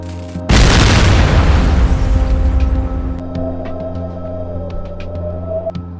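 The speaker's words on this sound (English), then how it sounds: "it suddenly slammed shut with a deafening bang" A door slams shut with a deafening bang in a scary-story scene, one sudden loud boom that decays into a lingering rumble and low hum, with a few faint clicks afterward.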